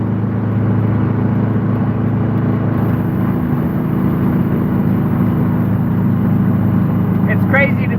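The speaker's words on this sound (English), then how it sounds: "I thought my truck was loud. That thing is loud." A loud truck engine rumbles steadily close by while driving through a neighborhood, a constant low drone holding throughout with a voice talking over it.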